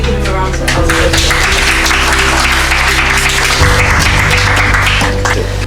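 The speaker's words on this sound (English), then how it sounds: "Can we give him a round of applause?" An audience applauds the Nigerian Senate President during his visit to the SDP national chairman: steady, loud, sustained clapping for about six seconds over a low humming background, with voices mixed in.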